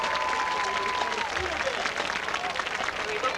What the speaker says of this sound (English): Can we hear one more round of applause for the band and the three soloists?